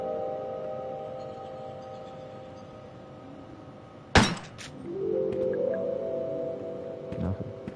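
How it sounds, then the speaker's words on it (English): A handgun shot in the Crow Country video game, a sharp loud crack with a brief metallic ring, then the spent shell casing tinkling and rolling on the ground over a low ambient hum. "We even have the shell roll around on the ground there."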